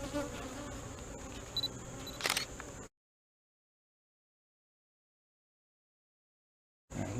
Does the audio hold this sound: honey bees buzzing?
yes